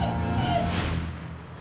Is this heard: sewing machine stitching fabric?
no